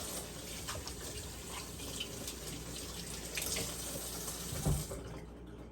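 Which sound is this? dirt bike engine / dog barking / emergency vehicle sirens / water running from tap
water running from tap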